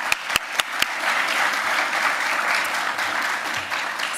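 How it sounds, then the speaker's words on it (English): An audience at a scientific meeting applauds steadily, opening with a few sharp separate claps before settling into dense, continuous clapping, with a voice faintly under it. "So round of applause"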